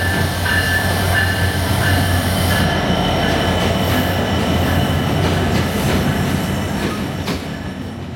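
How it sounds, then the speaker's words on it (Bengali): Sagardari Express train arriving at Chuadanga railway station, a loud, steady rumble of rolling wagons with squealing wheels and rail clatter close by, easing slightly toward the end. "চুয়াডাঙ্গা রেল স্টেশন থেকে ট্রেন ছাড়ার সময় সকাল 8টা 59 যথাসময়ে ট্রেন এসে হাজির হলো।"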